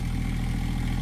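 A utility cart or tractor engine idles steadily at a homestead in winter, a low, even rumble with a regular pulsing throb that holds constant and close throughout, with no talk over it.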